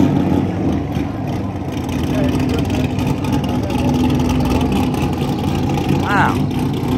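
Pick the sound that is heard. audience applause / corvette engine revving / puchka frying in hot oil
corvette engine revving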